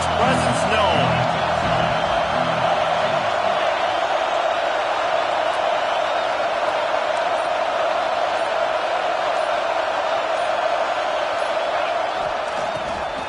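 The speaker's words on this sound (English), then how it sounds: "This crowd ready to make its presence known." A packed American football stadium crowd roars in a steady, dense wall of noise that holds loud and unbroken throughout.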